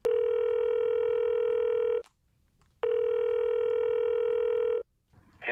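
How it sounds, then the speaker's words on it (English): A telephone voicemail system plays two long, steady electronic tones, each about two seconds long, separated by a short silence. The tones are clear, close and isolated, with no talk over them. "Hello, please leave a message after the tone."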